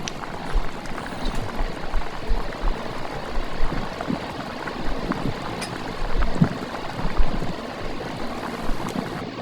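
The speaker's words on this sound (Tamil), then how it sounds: "ஒரு கொதி வருதுங்களா" A pot of drumstick flower soup bubbles at a rolling boil, an uneven stream of soft pops and gurgles close by, with no voices.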